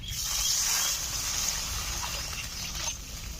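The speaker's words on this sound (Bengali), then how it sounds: "আলুগুলো হালকা করে ভেজে নিয়েছি, এখন জল দিয়ে দিচ্ছি।" Water poured into a pan of lightly fried potatoes, a brief steady gushing splash lasting a few seconds, close and fairly loud, with no talking.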